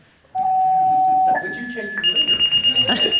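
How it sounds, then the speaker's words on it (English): A fire alarm goes off during a community meeting about a wastewater system, with steady electronic tones stepping upward in pitch, then a rapid pulsing beep, while people talk underneath. "that's fire alarm"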